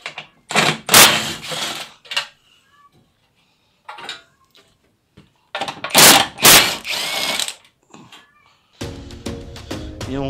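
Ratchet wrench with a small 10 mm socket loosening fasteners while taking off a car bumper, heard as short bursts of quick clicking with quiet pauses between them.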